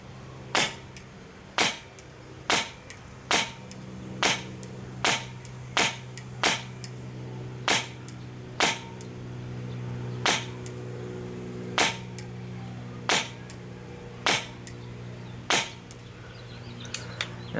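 A KWA SR10 airsoft sniper rifle with Polarstar system fires on semi-auto: about twenty sharp, evenly spaced cracks roughly a second apart, loud and close over a steady low hum.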